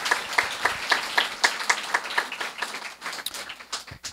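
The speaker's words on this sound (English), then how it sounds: "let's give a big round of applause to all our" An audience at a Kathakali show applauds its volunteers, a fairly faint, steady patter of clapping with soft rhythmic pulses that gradually thins out toward the end.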